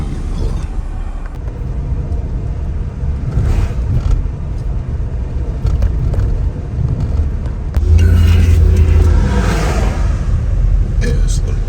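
A Mercedes R129 SL500 with a new wiring harness drives along in a steady engine and road rumble from inside the cabin, with a louder surge of noise toward the end.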